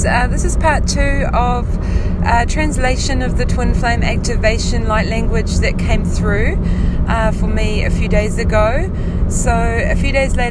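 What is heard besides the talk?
car driving interior noise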